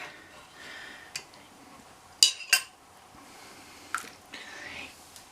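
A metal ladle that has lost its handle clinks against a pan while sausage and pasta are served, giving a few sharp, close taps and scrapes amid quiet kitchen rustling and soft murmuring.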